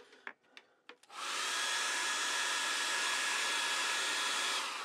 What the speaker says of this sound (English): And one more time blast with that hairdryer.